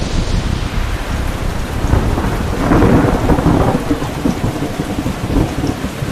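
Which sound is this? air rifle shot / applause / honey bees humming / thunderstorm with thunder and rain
thunderstorm with thunder and rain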